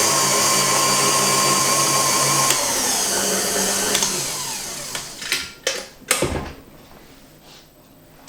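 An electric whisk whips cream for a banoffee pie, whirring loudly and steadily and then clattering in several quick knocks as it shuts off.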